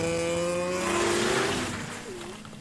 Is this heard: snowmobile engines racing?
yes